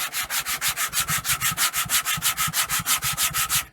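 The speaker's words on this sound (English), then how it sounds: "So I cut this piece of sandpaper a while ago for this purpose" Sandpaper rubbed by hand along a wooden guitar neck in quick, steady back-and-forth strokes, about five per second, close and clear with no talking.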